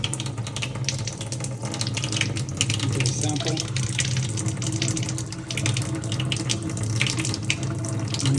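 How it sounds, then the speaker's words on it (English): Water runs steadily from the tap of a Kangen water machine into a sink, a continuous close hiss and splash while a person speaks briefly over it. "So you turn the water on."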